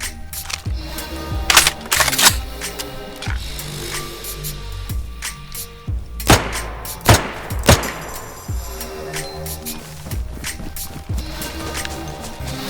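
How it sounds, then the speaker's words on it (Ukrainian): Gunfire in the video game DayZ comes as repeated sharp shots in irregular bursts, some close and loud, others lighter, over a low steady game background. "Хто стріляє?"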